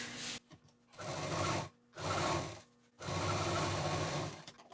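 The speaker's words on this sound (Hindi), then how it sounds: "अब इसको जोड़ने के बाद अब बॉटम का हिस्सा भी सिल देते हैं।" A sewing machine stitches the bottom seam of a shoulder bag in three bursts of rapid, loud, close mechanical chatter, separated by short pauses.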